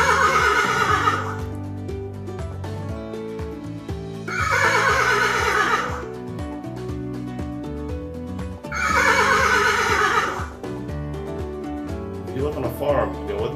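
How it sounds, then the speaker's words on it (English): Loud horse neighing in a sound-guessing game, three long whinnies spaced a few seconds apart with quieter gaps between, plus a shorter snort-like call near the end. "If you guessed horse, you're correct."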